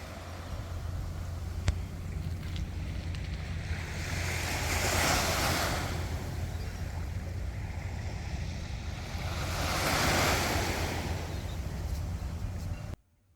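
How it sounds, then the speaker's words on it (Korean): Ocean waves on a Sydney, Australia shore roll in and wash out in two slow, broad swells over a constant rushing surf, loud and close, with some wind. "시원한 파도 소리, 새소리, 자연의 소리가 들렸습니다"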